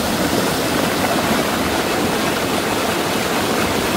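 Rainwater rushing forcefully along a stream channel, a dense, steady roar of flowing water that stays loud and unbroken throughout.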